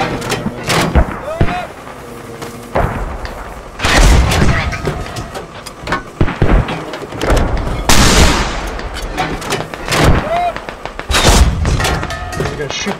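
Mortar fire in the video game Squad: repeated heavy booms and thuds of incoming rounds with gunfire mixed in, loud and close, while players talk over the blasts.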